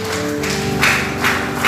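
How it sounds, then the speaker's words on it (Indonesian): A church congregation claps for God, steady close applause with rhythmic swells throughout the short stretch, a sustained tone running underneath. "Tepuk tangan buat Tuhan"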